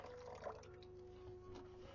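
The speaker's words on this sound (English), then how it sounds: "got our filtered water here. I'm just going to put a little bit into the bowl, probably about an inch deep" Filtered water pours steadily into a bowl in a home kitchen, filling it about an inch deep for regrowing celery; a soft, continuous trickle and splash runs throughout over a faint background hum.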